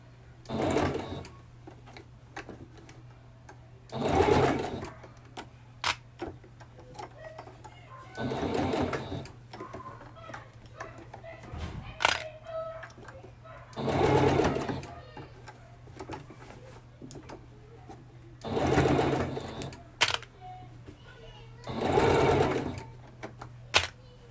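A sewing machine stitching tiny sleeves for an Ariel costume runs in short bursts, about seven stitching runs separated by pauses with small clicks and handling noises, close by.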